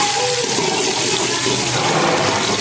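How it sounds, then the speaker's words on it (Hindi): Chopped onion hits hot ghee in a home kitchen, a loud, dense, continuous sizzle and hiss throughout, with no talk over it. "घी गर्म हो चुका है। तो अभी मैं ऐड करूँगी प्याज"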